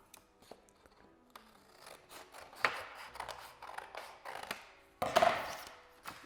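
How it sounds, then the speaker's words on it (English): Scissors snipping a flap off a square sheet of origami paper, a series of short crisp cuts building toward two louder closing snips near the end, close and alone with no talk. "Crease it, and then just cut the flap off."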